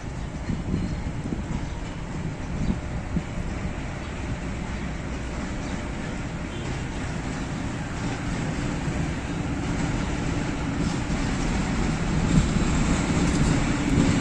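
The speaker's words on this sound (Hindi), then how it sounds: "तवील इंतज़ार के बाद 40 डाउन जाफर एक्सप्रेस पहुंच रही है रावलपिंडी लोकोमोटिव ZCU के साथ" Pakistan Railways 40 Down Jaffar Express arriving at Rawalpindi station behind a ZCU locomotive: a steady, loud low rumble of the train that holds unbroken and builds slightly toward the end, with no talk.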